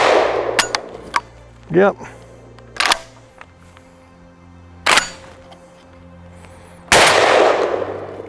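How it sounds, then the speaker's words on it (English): An unsuppressed shotgun fires birdshot outdoors, sending out several loud, sharp blasts a second or two apart, mixed with some mechanical clacks and a brief spoken word. "here's what it actually sounds like without suppressor"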